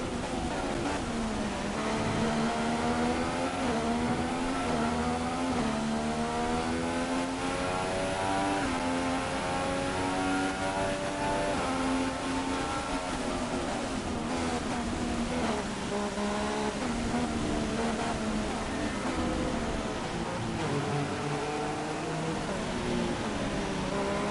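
A Haas F1 car in the F1 2016 racing game, in career mode at the Chinese Grand Prix, its engine screaming loud and continuous and rising and falling in pitch through gear changes across the whole stretch.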